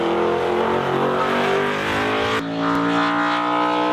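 An Audi V8 DTM race car engine screams at high revs, loud and close, with a sharp drop in pitch and a brief cut near the end as it shifts, and no voices.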